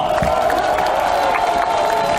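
An outdoor crowd at a Seoul mayoral campaign rally cheers and claps in a continuous, moderately loud roar, with scattered whoops and a steady tonal hum beneath.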